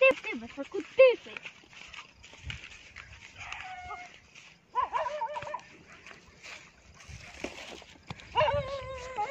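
Dogs bark at night among sand dunes, several yaps and whimpering cries rising intermittently and fairly close, with someone speaking over and between them.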